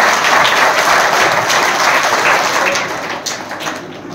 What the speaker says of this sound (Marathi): ईश्वरीसाठी सर्वांनी एकदा जोरदार टाळ्या वाजवा.